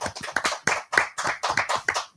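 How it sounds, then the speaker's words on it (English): A small audience at a talk event gives a short round of applause, with a few distinct, rhythmic clusters of hand claps close by. "Let's have a round of applause for Sound Union."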